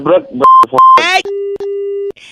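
A telephone sounds its tones as a call is hung up: steady electronic beeps, a couple of short high ones and then two longer, lower tones, with loud voices talking just before.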